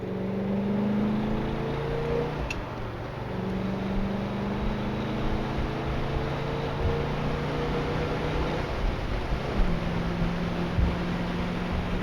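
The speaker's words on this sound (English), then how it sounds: "Let's drop it in the first and run it through the gears here." A 1966 Pontiac GTO convertible accelerates through the gears, its engine note climbing, dropping at each shift and climbing again over a steady rush of wind and road noise.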